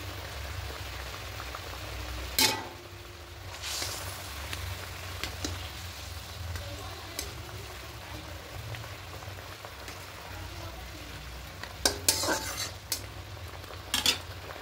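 Katla fish with green chilies simmers in boiling gravy, a soft bubbling hiss under occasional clinks and stirring knocks from utensils, fairly quiet and close.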